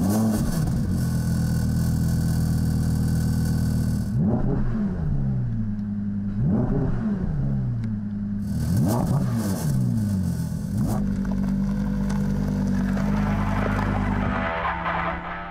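An Audi R8 with a naturally aspirated 5.2-litre V10 of 456 kW revs hard and accelerates, its loud, steady roar climbing in pitch through several gear changes, heard from inside without talk.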